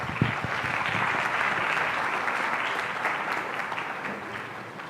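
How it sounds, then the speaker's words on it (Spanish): An audience at an academic lecture on sex education applauds a physician speaker with steady, full clapping that holds at an even level for about five seconds, with no talking over it. "Un aplauso, por favor."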